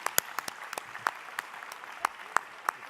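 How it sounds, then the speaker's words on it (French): Sparse clapping from a small audience at a humanism commission gathering in Nantes for a prize recipient, a dozen or so distinct claps in an uneven rhythm, fairly faint and slightly distant. "Si vous voulez bien l'applaudir"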